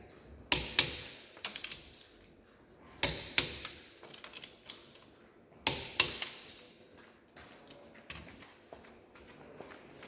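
A wrench gives sharp metallic clicks and ratcheting ticks in quick bursts with brief pauses while tightening a wheel nut, close and crisp, over light background noise with no talking.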